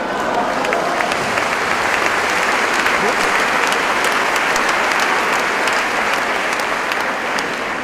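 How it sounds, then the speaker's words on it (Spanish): A large crowd in an auditorium breaks into steady, dense applause that holds at full strength throughout, a broad wash of many hands clapping together. "Ustedes aplauden y se alegran con esto"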